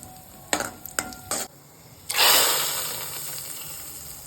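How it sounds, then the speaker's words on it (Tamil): A few sharp clicks of a pan or spoon, then a burst of hissing sizzle as cashews fry in hot ghee, slowly fading. "இப்போ நெய்யில் வந்து முந்திரி பருப்பை வறுத்துக்கிட்டு இருக்கேன்."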